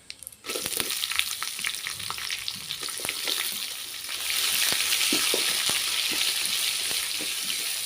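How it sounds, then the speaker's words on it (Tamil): Onions going into dal frying in a pan, a sudden burst of loud sizzling that settles into a steady crackle with repeated stirring clicks, close by and without speech. "பருப்புலேயே நல்லா பொரிஞ்சிட்டு இப்போ வந்து வெங்காயம் சேர்த்துக்கலாம்"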